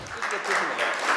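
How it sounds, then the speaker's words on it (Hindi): Applause for orphaned children performing at a talent show, a short burst of clapping mixed with overlapping voices and crowd noise throughout. "ताली बजाओ एक बार इनके लिए"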